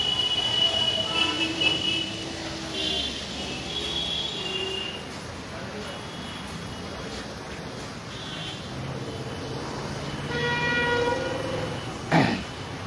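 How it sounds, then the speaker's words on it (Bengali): Evening ambience at Chandni Chowk metro station in Kolkata, with a continuous rumble of trains and station noise, a tonal squeal or horn-like whine near the end, and faint chatter in the background. "আজকে চলে এসেছি চাঁদনি মেট্রো স্টেশন লাইভে।"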